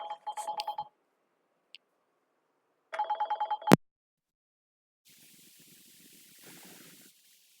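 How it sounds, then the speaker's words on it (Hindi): A telephone rings in two short bursts of rapid trilling tones separated by a pause, followed by faint hissing noise at low level. "फोन आ रहा है किसी"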